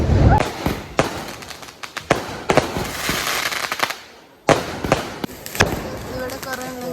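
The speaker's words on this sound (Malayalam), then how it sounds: "പടക്കം പൊട്ടിക്കാൻ പോവാ." Firecrackers bursting at a church feast: a string of sharp, loud bangs and cracks at irregular intervals over a few seconds, with one brief lull, and voices talking in the background.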